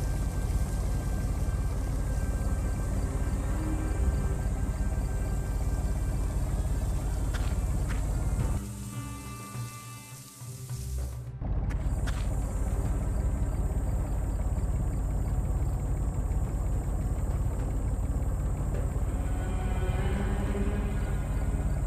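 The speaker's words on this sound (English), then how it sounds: "Yep, that might be the engine I heard in the video." A steady, loud engine rumbles in the game Tunguska, a continuous low idling drone that drops away briefly mid-way before returning just as strong.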